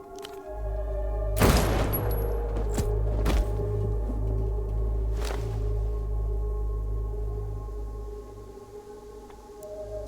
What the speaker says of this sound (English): Somehow the gunshot takes even you by surprise.